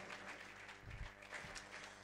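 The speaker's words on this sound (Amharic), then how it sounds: "ለጌታ ሲልልታ ጭብጨባ አምጡ እስቲ" A congregation claps in praise of the Lord: a faint, distant patter of applause lasting a couple of seconds.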